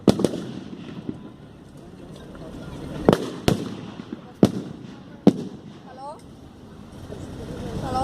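Several sharp Mauser rifle shots crack out at irregular intervals during a 1939 Battle of Tomaszów Lubelski reenactment, some distant, others closer and louder, over a low background with a voice speaking.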